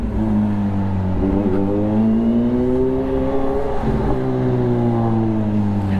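Road traffic in a long jam gives a steady, loud engine drone with rising and falling tones, close by and continuous, with no talking.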